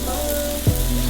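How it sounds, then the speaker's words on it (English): A tomahawk steak sizzles loudly over open flames as its fat renders and drips, a steady close crackling hiss with a brief flare partway through. "When the greases from the fats render down, it hits the flames and slowly creates this nice char on the tomahawk steak."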